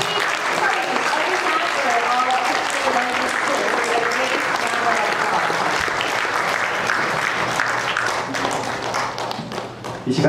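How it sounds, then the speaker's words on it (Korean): Audience applause at the 50th anniversary ceremony of a Korean language institute, honoring its teaching staff: dense, steady clapping held for about ten seconds and thinning near the end. "우리 든든한 SDA 교육의 교직원들을 위해서 우리 크게 박수로서 용기를 주셨으면 좋겠습니다."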